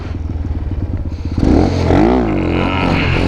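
A Grom clone stunt motorcycle revs hard for a wheelie: a steady idling chug for over a second, then a loud surge as the throttle opens, with the engine note climbing and wavering near and up close.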